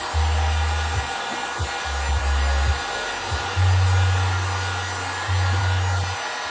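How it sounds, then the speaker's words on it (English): A heat gun blows over Lichtenberg-burned wood artwork, its steady whirring roar cutting in and out in several bursts of a second or two, close and loud with no talk. "I'm going to throw a little heat gun on there"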